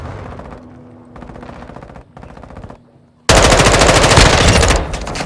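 Rapid automatic gunfire from Call of Duty: Modern Warfare II erupts as a loud, dense burst midway through, after a quieter stretch of rhythmic game ambience and clatter.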